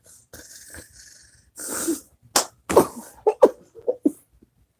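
One person gives a sharp sneeze amid a run of short coughs and breathy bursts, close to the mic with silent gaps between them.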